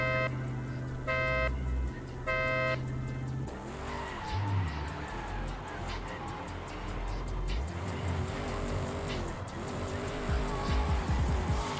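A muscle car drifting at Formula Drift Okayama, engine roaring loud and close with long tire squeals and skidding throughout, opening with a few tonal horn-like toots before the run builds.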